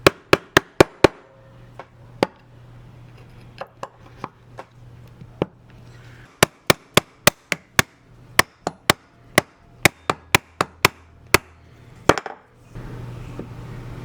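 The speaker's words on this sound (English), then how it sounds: "I'm going to pry them up with a hammer." Sharp metal hammer strikes on the door check tabs of a 100 Series Land Cruiser while they are pried up, a loud irregular run of close taps, some in quick bursts and others spaced apart, with faint low hum between.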